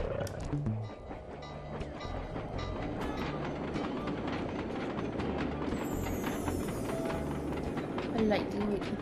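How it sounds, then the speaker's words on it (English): Train rumbling and clattering past in the video game Sly 2, a steady rolling rail noise with rhythmic clacks under a speaking voice. "I lightly wait for the train to pass"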